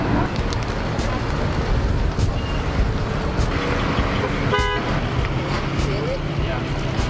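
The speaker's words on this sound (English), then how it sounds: "Can you hear the traffic on your right side?" Street traffic streams past on the right side in a steady, close roadway rumble, with a short car horn toot partway through and faint voices mixed in.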